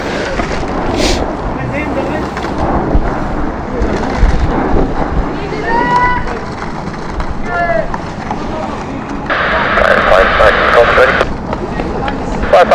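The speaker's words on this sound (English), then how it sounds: "our Rotterdam flight is just lining up" An airliner bound for Rotterdam lines up on the runway at London City airport, a broad steady roar mixed with wind buffeting on the microphone and some nearby background noise, with brief tonal chirps partway through.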